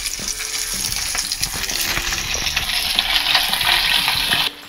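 Lambuka fish sizzling steadily in hot oil in a pan, a loud, continuous frying crackle that holds throughout and drops off abruptly at the very end.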